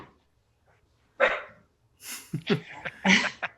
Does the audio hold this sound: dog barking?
yes